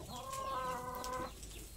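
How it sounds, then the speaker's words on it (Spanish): Hens at a rural home give a short burst of clucking, close and clear, in a quiet setting. "Las gallinas hasta se asoman."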